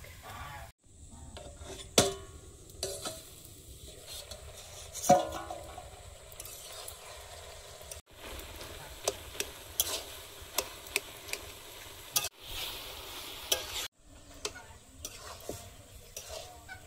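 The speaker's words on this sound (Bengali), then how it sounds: "বাঁধাকপিটা দিয়ে দেবো, ঝাঁসটা বেরিয়ে যাবে না, ঝাঁসটা সবজির মধ্যে ঢুকে যাক।" Cabbage cooks with tomato and salt in a pan, stirred with a utensil that gives sharp scraping clicks over a faint sizzle, close and fairly quiet, with no talking.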